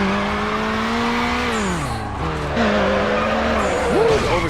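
In Need for Speed Underground, a car's tires squeal in a long continuous skid while oversteering, with the engine droning loudly underneath and pitch sliding as the car slides.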